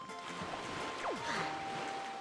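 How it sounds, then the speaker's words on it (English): Ocean waves in the video game Wind Waker HD, a steady broad wash of surf with a sweeping swell rising and falling near the middle, alongside a faint sustained tone and soft game sounds. "So now let's just drop into the waves."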